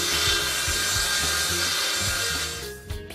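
A parquet wall board is cut with a saw in a rhythmic series of rasping strokes, close and steady, ending with a few scattered knocks.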